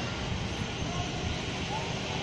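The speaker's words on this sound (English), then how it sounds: "look at the airplane" Broadband roar of a large airplane's engines at an airport, steady and loud throughout, with people talking excitedly over it.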